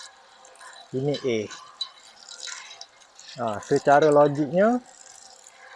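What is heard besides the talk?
water poured over metal roof deck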